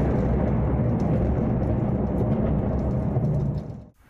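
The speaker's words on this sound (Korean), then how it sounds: "쉴 새 없이 내려치는 천둥과 번개." Thunder booms and rumbles through a sudden heavy downpour in Busan, a dense, loud wash of rain and low roar filling the whole stretch before cutting off abruptly at the end.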